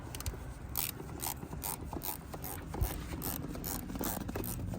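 A ratchet driver backs out tiny T20 screws from the MAF sensor on a 2015 Ford Explorer, a run of quick close clicking ratchet ticks with faint rubbing of metal, no talking.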